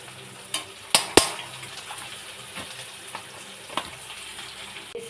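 Shrimp frying in a pan with turmeric and salt, a soft continuous sizzle punctuated by a few sharp clinks and taps of utensils against the pan, close and fairly quiet with no talking.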